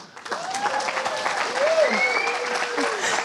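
Audience applause at an ecommerce agency summit keynote in Valencia: a steady wash of clapping from a full room, with voices calling out through it.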